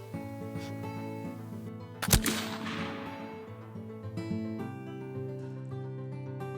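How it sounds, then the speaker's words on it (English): A single loud black powder muzzleloader shot loaded with 4F powder cracks sharply outdoors in the woods, followed by a long rolling echo and tail, over faint steady background music. "We each touched off a couple of shots before hitting the woods."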